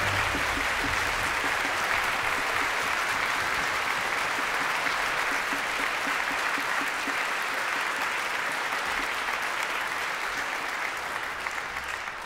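A concert audience at an orchestral show of video game music applauds steadily and densely for over twelve seconds, a full-hall wash of clapping that stays strong throughout before easing slightly at the end.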